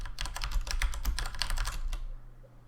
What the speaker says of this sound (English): you have a loud mechanical keyboard there, Greg.